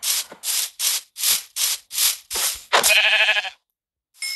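A series of short, breathy bleats from a video game sheep repeats in a steady rhythm, followed by a longer, buzzy bleat, then a brief pause; no voices.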